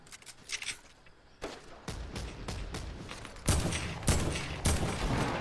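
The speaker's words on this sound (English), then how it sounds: "Bro, I'm getting shot at. Like everywhere." Video game gunfire crackles in scattered bursts, starting sparse and faint and then building into louder, closer volleys near the end, with no one talking.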